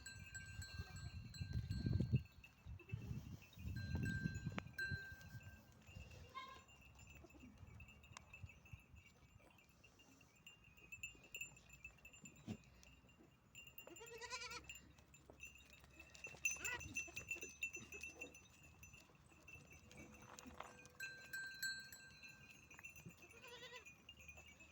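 Goats and their young kids bleat repeatedly at a farm around milking time, scattered calls near and far over a low barn background, with people talking now and then.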